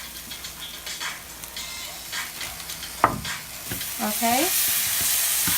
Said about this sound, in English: And now we're just gonna stir that and incorporate that in with the rest of the meat